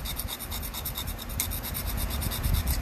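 Cheap sandpaper rasps steadily against the tip of a Helvie flex blade, a close, continuous gritty scratching with a regular back-and-forth texture and no pauses.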